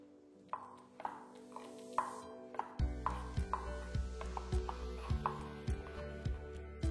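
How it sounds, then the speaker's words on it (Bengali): A knife slices pointed gourd (potol) into thin strips on a cutting board, giving a steady run of close, crisp taps about every half second over a low background hum. "আমি এটাকে এই কারণেই পাতলা পাতলা করে কাটছি, যাতে এটা ভাজার সময় খুব তাড়াতাড়ি সেদ্ধ হয়ে যায়।"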